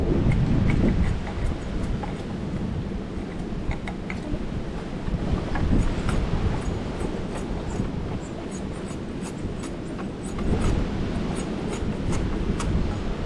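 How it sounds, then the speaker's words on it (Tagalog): Steady, strong northeast monsoon wind roars continuously by the sea on a beach, with rumbling gusts and occasional faint clicks, with no talking. "Kay malakas pa ang amihan"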